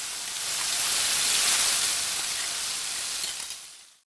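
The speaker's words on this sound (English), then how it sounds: "We have to saute this for 5 to 10 minutes in low flame." Ginger paste sautés in a pan over a low flame, giving a steady, close hiss and sizzle that holds evenly, then fades out at the end.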